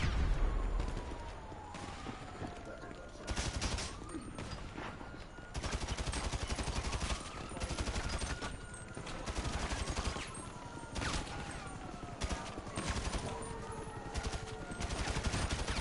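Rapid bursts of automatic gunfire in a PS4 shooter, aimed at the player, crackle loudly and almost continuously, with repeated volleys and a few whooshing sweeps between them.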